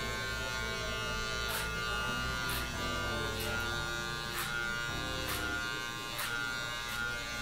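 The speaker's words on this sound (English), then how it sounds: "My clipper's always in the closed position when I do this" An electric hair clipper buzzes steadily and close up through a bald fade haircut, with short higher bursts at regular intervals as the blade passes over the head.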